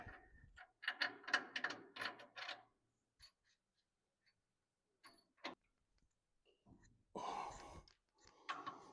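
Bolts being tightened on the transmission of a 1926 John Deere Model D tractor, with bursts of close ratcheting clicks, then scattered faint ticks and a few short metallic rattles.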